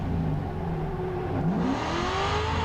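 A drift car's engine revs on the throttle during a Lone Star Drift competition run at MSR Houston, its tone sweeping up steadily and sounding close and loud throughout.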